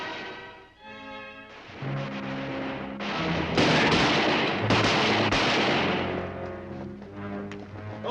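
Gunfire in a western TV episode: a volley of loud, echoing gunshots and blasts crowds the middle, with sparser shots around it and background music underneath.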